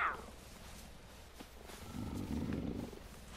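In the video game Far Cry 5, a puma companion gives a low, rumbling growl that swells near the end, close and moderately loud with no talk.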